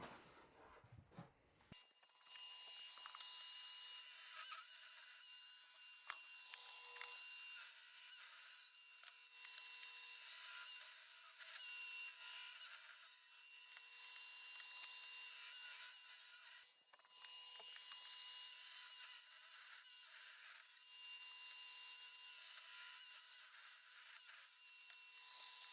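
A saw cuts through wooden battens for an antique table extension, giving a continuous, fairly quiet high-pitched cutting whine that pauses briefly partway through before resuming steadily to the end.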